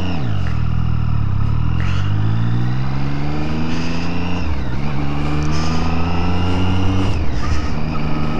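A brand-new Triumph Street Triple R motorcycle on fresh tires, in its break-in period, pulls away and accelerates. The engine rises in pitch through several gear changes, loud and close, with a steady roar and no talking.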